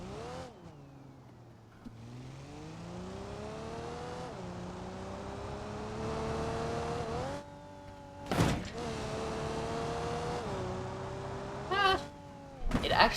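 A tuned 491-horsepower car engine in the BeamNG driving game revs up in long rising sweeps, dropping back at each gear change, loud and close, with a brief sharp rattle midway and another near the end.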